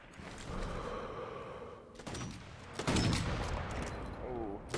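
Sniper rifle shots and gunfire in the Sniper Elite V2 video game, a couple of muffled booming reports amid game ambience, heard under a quiet mix.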